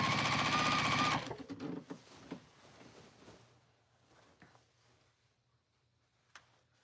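Sewing machine binding a quilt, a loud continuous stitching run for about a second that stops abruptly, followed by scattered soft handling noises and a faint low hum.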